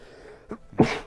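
A character sneezes once in Beyond Skyrim, in the Bruma area. A faint breathy intake comes first, then a single short, sharp, fairly close burst.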